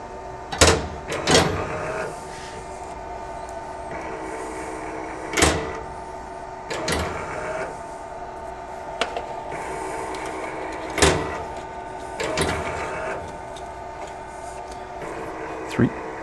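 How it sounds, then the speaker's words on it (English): A motion-sensitive compactor door on a Ewellix actuator opens and closes in three repeated cycles, each marked by sharp mechanical clunks and a whirring motor hum in between, fairly close and loud, with no talking. "waving your hand under the motion sensitive door 3 times to open and close"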